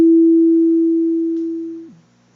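A homemade FM synthesizer sounds one pure, steady tone for nearly two seconds, then it slides down in pitch and quickly fades, loud and close with no talking.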